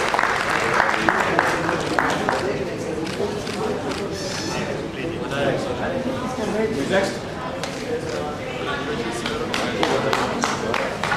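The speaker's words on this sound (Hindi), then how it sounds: "जोरदार तालियां हो जाए हमारे सभी अवार्डीज के लिए प्लीज।" Crowd applause for the awardees at an award ceremony, sustained clapping from many hands mixed with voices and cheering throughout.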